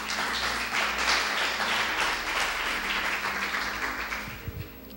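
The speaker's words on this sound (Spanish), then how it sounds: "Yo pensé que iban a aplaudir." Congregation applauding in a sustained, moderately loud burst of clapping that gradually thins toward the end, with a low hum and a few thumps underneath.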